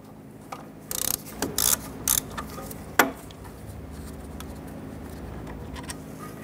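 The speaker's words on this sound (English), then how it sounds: "You're going to use our socket and ratchet." Socket and ratchet loosening a brake caliper bolt on a 1994-2004 Ford Mustang: a few short bursts of close metallic clicking, then a sharp knock, over quiet shop background.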